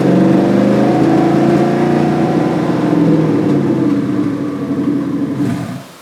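A GMC Sierra engine with worn injectors idles roughly and loudly up close, a steady uneven mid-range drone that holds for several seconds before cutting off at the end.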